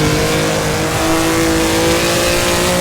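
Maserati 250F racing engine at high revs in a sim racing game on a hedge-lined course, a loud, continuous rasp with steady harmonic whine held close throughout, no talk.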